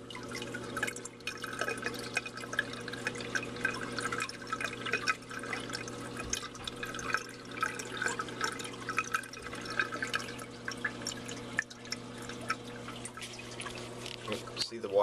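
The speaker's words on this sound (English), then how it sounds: "See the water running across the bottom panel, down the sides." Water trickles steadily through a reef tank's L2 algae scrubber, running across the bottom panel and down the sides, with a constant low hum and soft dripping underneath someone talking.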